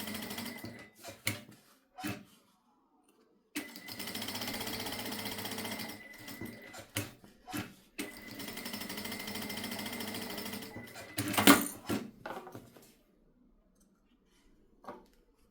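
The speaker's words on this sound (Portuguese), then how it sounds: "Só fazer uma costura de segurança em toda a volta." A sewing machine runs a safety stitch around the edge of a fabric bookmark with a floral print, in bursts of steady whirring broken by short pauses and small clicks, close and clear, with no talking.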